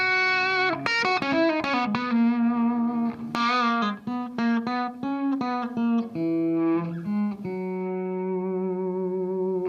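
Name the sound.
electric guitar through overdrive pedal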